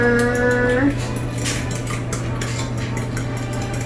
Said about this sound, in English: I'm going to give this a quick little stir.